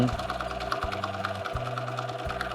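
A sewing machine runs steadily while quilting crossing lines, its rapid needle chatter continuous and close with a few brief pauses in the motor, no voices over it.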